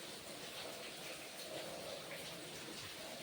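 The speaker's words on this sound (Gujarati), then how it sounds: "વરસાદ તો બહુ પડે છે." Heavy rain pouring down steadily at a cow shelter during a storm, a dense even hiss of drops on surfaces, soft and continuous with no voices.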